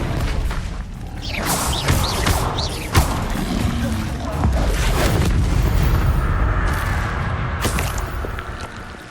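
Spell effects and fiery blasts from an Incendio fire spell in Hogwarts Legacy, a dense, loud layered mix of booming bursts, crackles and whooshes running continuously with a sharp hit near the three-second mark.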